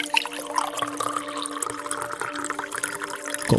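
Water pours steadily into a glass in a kitchen, a continuous close liquid trickle that runs unbroken and alone for a few seconds.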